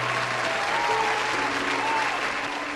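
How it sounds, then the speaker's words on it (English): Steady applause from a crowd fills the whole stretch, a dense, even patter of many hands at moderate level, with a few faint tones drifting underneath. "Listen, we got to give you claps."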